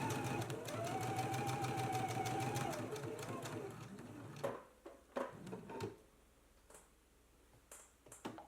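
A sewing machine stitches along the marked line of a girls' and misses' dress pattern, giving a steady whirring drone for about four seconds, then stopping, followed by scattered clicks and handling sounds.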